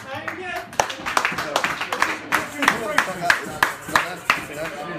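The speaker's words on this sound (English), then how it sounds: "give me a round of applause" A live audience at the RMA Tavern applauds a performer, a modest round of distinct hand claps in a small room, with a voice talking over the clapping.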